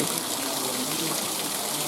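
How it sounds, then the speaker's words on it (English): Spring water spouts steadily from carved stone dragon mouths at the Dazu rock carvings in China, a continuous close splashing trickle with no pauses. "The 9 dragons are spitting out springs to bathe Sakyamuni when he was born a prince, sitting in a basin."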